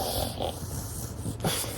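A puppy snorts and breathes heavily close to the microphone, a few short nasal snuffles and huffs over a low, steady background hum.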